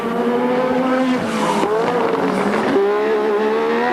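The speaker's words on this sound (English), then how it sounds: "back with Johnny Dumfries in the JPS Lotus with its Renault engine" A 1986 JPS Lotus Formula One car with a Renault engine screams past at high revs during Australian Grand Prix practice, its tone climbing through sharp gear changes, loud and close.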